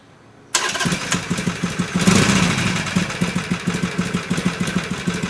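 A Harley Sportster with a Screamin' Eagle exhaust cranks and fires up abruptly, then settles into a loud, lumpy idle with an uneven rhythmic potato-like pulse, close by and alone.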